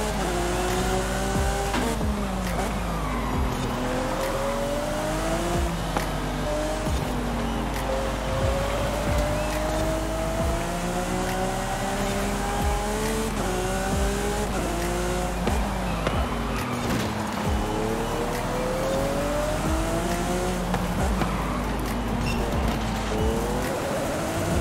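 A 2018 Lamborghini Aventador SVJ in Forza Horizon 5, revving hard through rising gear pulls with a loud, sustained engine wail that climbs, drops at shifts and climbs again, with occasional tire noise.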